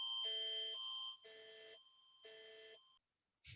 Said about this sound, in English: Sorry, that was just an alarm that went off.